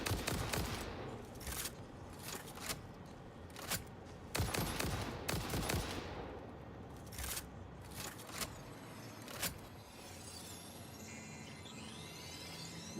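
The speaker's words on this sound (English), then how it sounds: "those guys take 8 shots to kill, and my clip only holds 15, so I have to reload in between" Video game gunfire cracks out in repeated sharp shots, with several close bursts spread over the span and brief mechanical clicks of reloading between volleys; no talking.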